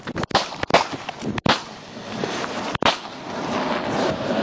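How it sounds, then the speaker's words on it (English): Sharp gunshots ring out during a traffic stop shooting, several loud, close cracks in quick, irregular succession over a rough, noisy background scuffle. "Shots fired. Shots fired."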